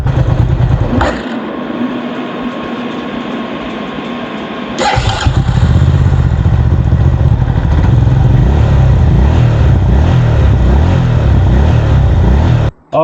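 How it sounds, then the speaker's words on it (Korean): A 2012 Daewoo Mirage 650 scooter, just refilled with coolant after a leaking radiator repair, cranks briefly and then catches, settling into a loud, close, steady idle. "일단 냉각수 보충하고서 시동을 한번 걸어 보도록 할게요"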